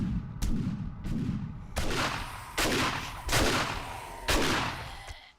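Automatic turret in the video game 7 Days to Die firing loud repeated bursts of gunfire, six or so sharp volleys each trailing off in rattling echoes, with no talking over them.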